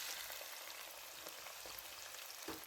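Garlic and onion sizzle and crackle in hot oil in a pan, a steady quiet frying hiss with occasional pops.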